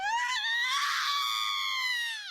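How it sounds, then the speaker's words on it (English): A single long, high scream rises and holds for about two seconds before cutting off, a piercing cry from the Raging Loop video game heard on its own without speech. "Suddenly I heard a scream in the distance."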